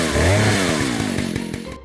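A loud, close chainsaw engine snarls with a high, buzzing drone that dips slightly in pitch, then pulses in rapid rhythmic throbs as it settles before cutting off abruptly.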